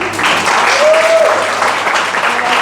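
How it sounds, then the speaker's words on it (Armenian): A small crowd claps warmly at a family celebration of a mother's 30th jubilee, with continuous, even applause close by, mixed with voices and a brief whistle-like tone. "ինչի վառ ապացույցն են այս գեղեցիկ պլավնի ծափերը"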